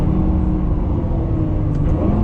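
Lamborghini Aventador Superveloce LP750 V12 engine running in Corsa mode in traffic, a loud, steady, close engine drone holding for a couple of seconds without pause.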